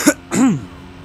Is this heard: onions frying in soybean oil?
no